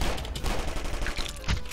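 Rapid gunfire from the Zombie Grinder video game rattles on continuously in a short, dense burst, loud and close, with no voices over it.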